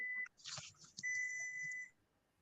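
Faint electronic beeps: a short high tone, a soft rustle, then a longer steady beep, all quiet and distant-sounding.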